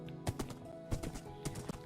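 A horse in Minecraft plods along with hollow clip-clop hoofbeats, a few uneven pairs of thuds over a low steady background hum, close and moderately quiet.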